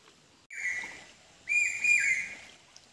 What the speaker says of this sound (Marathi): आवाज पावशा पक्ष्याचा